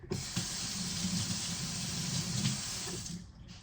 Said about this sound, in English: this, I just run it out of the sink quick and call it a day